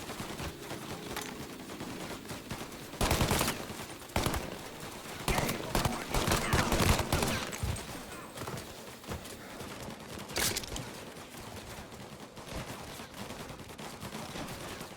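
Rapid bursts of gunfire in the crime game Mafia: Definitive Edition, with loud volleys around three, five to seven and ten seconds over a busy combat bed and occasional shouted voices.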